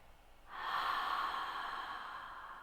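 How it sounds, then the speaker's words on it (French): A slow, steady exhalation through the mouth during yoga breathing, a soft, breathy rush that swells and then gradually fades, close and quiet. "Puis expirez par la bouche."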